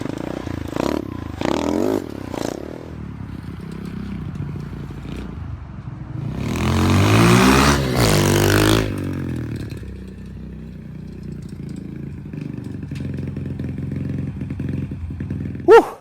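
A restored mini bike's small engine runs steadily while being ridden, swelling into a louder rev partway through before settling back to a rough, uneven running note.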